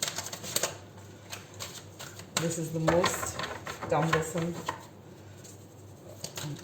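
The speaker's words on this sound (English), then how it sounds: "I struggle with shuffling this deck." A deck of tarot cards is shuffled by hand, giving irregular papery slaps and rapid clattering bursts, close to the listener while a person speaks over it.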